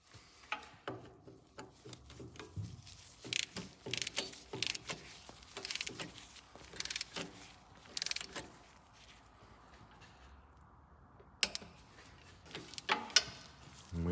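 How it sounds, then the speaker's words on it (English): A torque wrench tightens a fitting to 14 foot-pounds during a hydro fluid change on a Lazer Z mower, giving faint irregular ratcheting clicks and metallic tool handling, with a few sharper clicks near the end. "You're going to want to grab your torque wrench. This goes to 14 foot-pounds or 168 inch-pounds."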